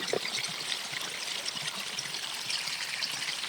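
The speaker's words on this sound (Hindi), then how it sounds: "फिर लगातार पानी भरना शुरू हो गया।" Steady trickling and streaming water in a story sound effect, a continuous close wash of flowing liquid as water pours in and fills a room, with no voices.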